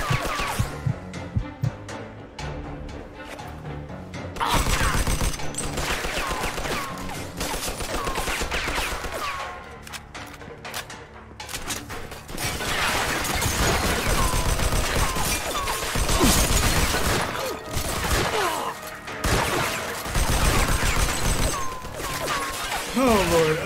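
Gunfire in the video game Mafia II, dense volleys of shots and crashing impacts running loud through most of the stretch, with a short lull early on, mixed with game music and effects.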